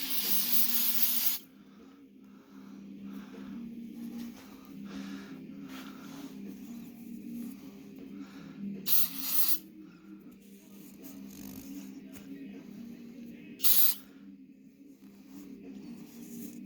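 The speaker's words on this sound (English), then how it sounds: "Let me wipe that down with some brake cleaner" Brake cleaner sprayed onto an engine block during a freeze plug installation on a 1968 Rambler repower: a close, loud aerosol hiss opens the clip, and two shorter sprays follow later.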